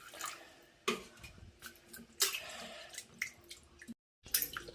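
Boneless chicken is washed by hand in water, with quiet splashing, drips and sloshing that come in soft irregular bursts near the mic. A bowl or vessel clinks lightly now and then.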